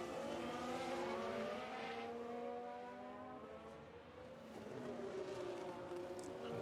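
Simulated Formula 1 race car in F1 Manager 2022 on the Baku street circuit, its engine note dropping in stepped downshifts under braking and then rising again, loud and continuous with no voices.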